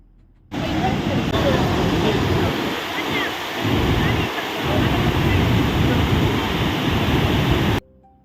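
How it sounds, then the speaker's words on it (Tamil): A waterfall in Ooty roars in a loud, dense, unbroken rush of falling water that swells and dips slightly, ending abruptly. "ஃபால்ஸோட சவுண்டு வந்து பாருங்கள் பயங்கரமாக இருக்குது."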